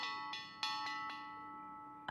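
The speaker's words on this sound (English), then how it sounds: "you can ring the treehouse bell" A treehouse bell rung in The Sims 4 Growing Together, five evenly spaced bright metallic chimes with a lingering ringing tone, quiet and alone, followed by a louder chime at the end.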